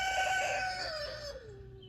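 A rooster named Zeus crows once nearby, a loud drawn-out call that falls in pitch and fades near the end of a short burst, with no talking over it.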